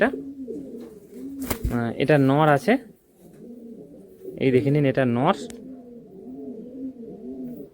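Andhra pigeons in a sale lot coo in soft, repeated, rolling calls close by, while someone speaks loudly in two bursts over them.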